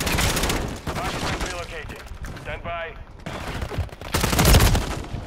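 Rapid bursts of gunfire from a Call of Duty match, dense automatic shots crowding the foreground with a louder volley near the end, while someone talks over the shooting.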